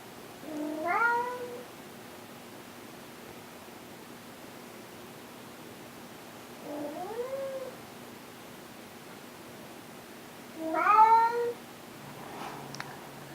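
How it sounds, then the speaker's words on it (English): A house cat meows three times, fairly close and clear, with long quiet gaps between the calls and no talking. "Hopefully that wasn't too loud of my cat."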